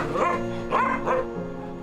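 Romanian street dogs yelping and whimpering in a few short, whiny bursts, close and moderately loud, with a faint voice in the background.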